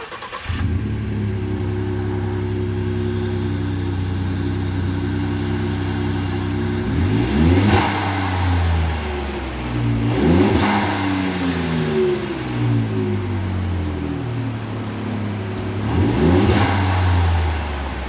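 A Ford F-150 EcoBoost 2.7L/3.5L fitted with an aFe Magnum Force cold air intake with Pro Dry S filter idles loudly, then revs up in three strong rising surges, each falling back to a steady rumble.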